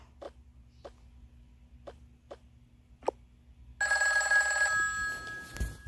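A telephone call placed to a pizzeria: a few short, evenly spaced taps, then a loud, steady electronic ring tone that holds for about a second before fading into room noise.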